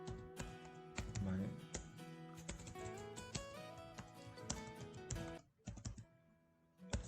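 Code is typed on a computer keyboard for Excel automation, with dense, close clicking keystrokes in quick bursts and short pauses while a voice talks over the typing.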